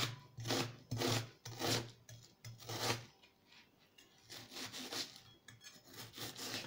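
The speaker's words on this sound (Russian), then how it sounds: "Мелко кубиками нарезаем лук." A knife dices an onion on a cutting board, a run of quick rhythmic strokes, close and clear, with no talking.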